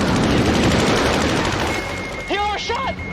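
Jet cannon fire from a MiG during a Top Gun dogfight: a dense, rapid rattle of gunfire under roaring jet noise that fades into a brief burst of radio talk.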